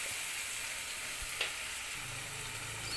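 Chopped onion and tomato frying in a pan for okra palya, a steady soft sizzle with a brief stirring scrape midway, close and fairly quiet.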